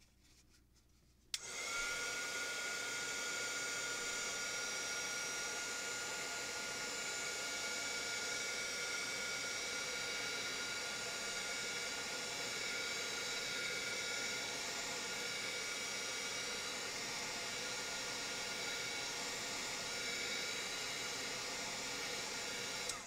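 An electric heat tool blows steadily and close over ink on vellum cardstock, a continuous broad airy whoosh starting abruptly after a second of near silence and holding without a break.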